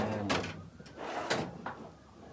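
A few short wooden scrapes and knocks of drawers sliding open and shut in a workshop, close by with faint background noise.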